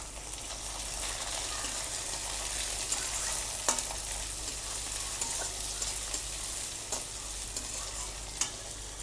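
Boiled kabuli chickpeas tumble into a frying masala for chole, bringing a continuous soft sizzle with occasional spoon clicks and stirring scrapes in a home kitchen.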